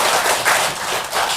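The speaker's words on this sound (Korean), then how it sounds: "박수 한번 하겠습니다." A church congregation applauds together for a returning member, a dense, steady patter of many hands clapping at a fairly loud level for just over a second.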